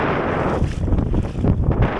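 Steady wind gusting over a shallow tidal inlet on a beach, a loud continuous roar with buffeting against the microphone and no voices.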